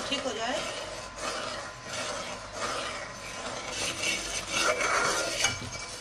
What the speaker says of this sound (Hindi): और चमचा चलाते रहेंगे ताकि ये बिल्कुल ठीक हो जाए